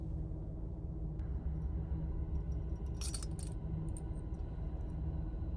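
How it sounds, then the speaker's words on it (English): Car keys for an old barn-find project car stored since 2003 jingle and clink briefly in a short metallic burst midway, over a quiet low rumble of background. "So I'm gonna show you guys the keys for this car, okay?"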